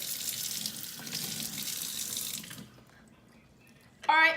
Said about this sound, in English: So we just clean out in nice warm water.